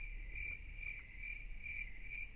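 Steady, high-pitched cricket chirping in a repeating pulsed rhythm, continuous and fairly close, with no voices.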